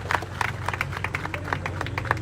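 Auditorium audience applauding the elders present, a quick patter of many individual claps over a low hum, moderate loudness, steady throughout.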